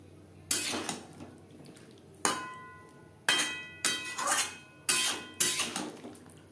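Boiled giant taro is stirred into spices in a metal pan, giving six sharp, ringing clanks of a utensil against the pan, spaced irregularly with quieter scraping between.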